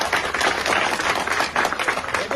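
Crowd applause at a women's college student council election event, sustained dense clapping from many hands throughout, loud and continuous with no pauses.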